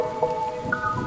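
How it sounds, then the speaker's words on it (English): Heavy rain pours down in a steady, dense patter, with a soft tonal drone running underneath. "Outside, the rain poured heavy on Nettie Hoyt."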